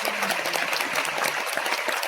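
Audience applause filling the theatre at the East Kowloon Cultural Centre during a concert curtain call, dense and steady clapping from a large crowd throughout.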